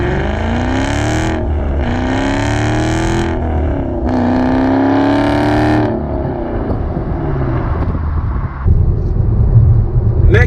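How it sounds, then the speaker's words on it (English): Exhaust of a manual-transmission car recorded from a rear-mounted camera, a loud close engine note that rises and falls through repeated revs and shifts, then settles to a lower rumble. "I'm gonna mount my camera back here and get you a quick exhaust clip of the car."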